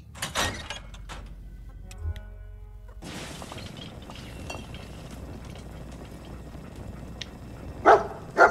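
Dogmeat, the dog companion in the video game Fallout 4, gives two loud, sharp barks close together near the end, over a steady bed of game ambience and music.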